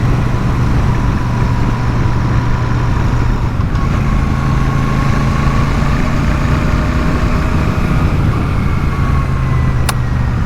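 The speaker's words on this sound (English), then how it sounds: "the sound of the engine through those stock exhausts, absolutely awesome." Royal Enfield Super Meteor 650 motorcycle engine running through its stock exhausts, a steady low rumble that stays even and close throughout, with no voices.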